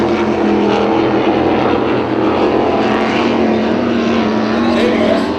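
Racing powerboats roar past the start-finish line of a powerboat race at Pickwick, a loud, sustained engine drone that fills the clip, with a voice talking underneath.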